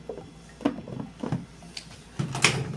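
A lid set onto a dish of veg keema before it goes into a Panasonic microwave oven, a few close, light knocks and clacks spread over a couple of seconds, with no talking.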